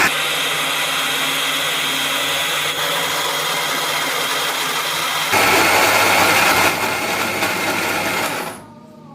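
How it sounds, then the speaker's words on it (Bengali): A blender grinds soaked lentils with water for rosh bora, a loud, steady motor whine that shifts pitch midway as the mix loosens, then winds down abruptly at the end. "এবার এটাকে ব্লেন্ড করে নেব"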